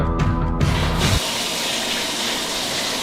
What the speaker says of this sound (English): I guess it's time to try to fill this thing with water.